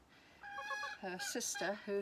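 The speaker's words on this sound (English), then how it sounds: "That noise is the last chicken" A hen in a backyard coop, the last one left in the run, gives a short series of loud clucks and a drawn-out squawking call, close by, with someone speaking softly over it.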